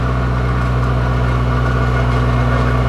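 A car engine tuned with a Hondata S300 ECU idles steadily at close range, a continuous low rumble with no talk over it.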